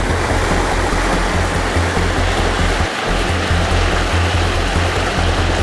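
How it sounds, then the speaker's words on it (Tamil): Loud, continuous rushing water roars steadily throughout, a dense broadband wash like a strong stream or spillway heard up close, beneath a bridge in Sri Lanka during Cyclone Ditwah. "அது தண்ணி ஊற சத்தத்தை பார்த்தீங்களா?"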